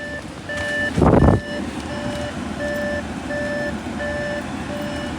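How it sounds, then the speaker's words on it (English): A steady electronic car warning chime, reminding to turn the engine off, beeps at an even rhythm throughout, with a brief thump of handling noise early on. The car is an Audi A6. "it's beeping because it says turn the engine off before you leave"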